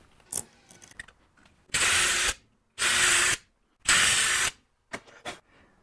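Power drill opening up screw holes in aluminum end caps: three loud, steady bursts of about half a second to a second each, separated by short pauses, with faint handling clicks before and after.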